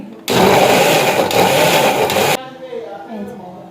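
An electric mixer-grinder blending a masala of tomato, ginger, cumin, green and dried chillies and garlic, a loud close roaring whir running steadily for about two seconds then cutting off abruptly, leaving quiet room noise.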